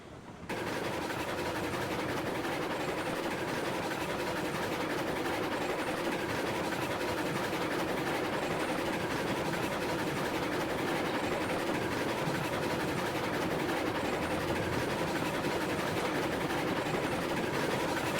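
A train running in the Railroads Online video game makes a steady, continuous rumbling roll with faint rhythmic clatter. It starts abruptly and holds at an even level throughout.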